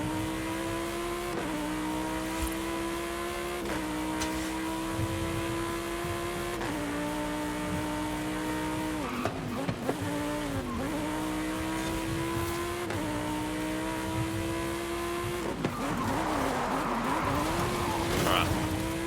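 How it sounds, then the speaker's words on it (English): Car engine in Forza Horizon 5 revs and shifts repeatedly on the road, with a handbrake skid and tire noise breaking in near the end, loud and continuous, with a voice talking over it. "On the road, gonna handbrake."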